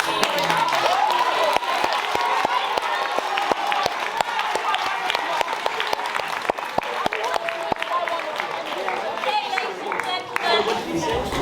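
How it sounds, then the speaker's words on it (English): Sustained, loud applause from a crowd at a Year 8 Debate Mate event, dense clapping with some cheering and chatter mixed in, continuing steadily for the whole stretch. "I just want to give everyone a round of applause"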